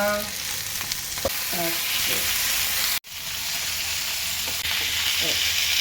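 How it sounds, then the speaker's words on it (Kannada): Fish sizzles and fries in oil with curry leaves in a pan, a steady close hiss broken by a brief sharp cutoff midway and occasional utensil scrapes. "ಸ್ವಲ್ಪ ಎಣ್ಣೆ ಹಾಕ್ತೇನೆ, ಸ್ವಲ್ಪ ಕರಿಬೇವು ಸೊಪ್ಪು ಹಾಕ್ತೇನೆ. ಇವಾಗ ಫಿಶ್ ಬಿಡೋಣ."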